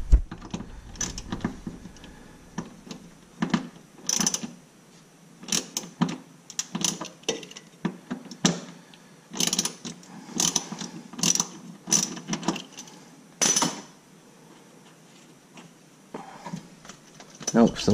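A ratchet with a 10 mm socket loosens a bolt on a 2005 GMC Sierra 2500HD during airbag work, clicking in repeated short bursts close by, with pauses and handling noise between strokes.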